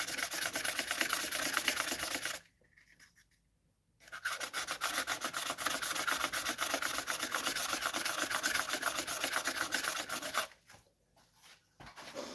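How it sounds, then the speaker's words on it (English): Resin pen blank sanded wet on a spinning wood lathe, forming a slurry; a loud, steady abrasive rubbing hiss that stops twice briefly, then resumes, close up. "It just like makes a slurry and then it just keeps sanding."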